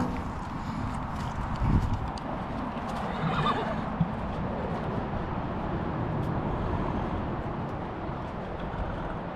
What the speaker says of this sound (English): let me get this horse put up